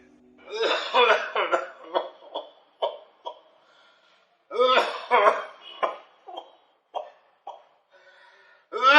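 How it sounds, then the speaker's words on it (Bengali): A man in a Bangla drama coughs in repeated harsh bursts, two long coughing fits separated by a pause, with rough, throaty hacking that sounds voiced and close. "আমি কাশতে কাশতে মরে যাই"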